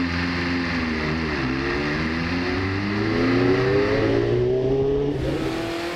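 A 1983 Williams FW08 Formula One car runs loudly on track at Silverstone, its engine note holding steady and then climbing in pitch as it revs, close and continuous throughout.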